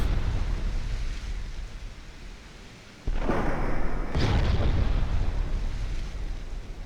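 A naval shell explosion striking a ship's conning tower in a naval warfare game: a sudden loud blast bursts out of a steady rumbling wash, followed by a second impact and ongoing roar.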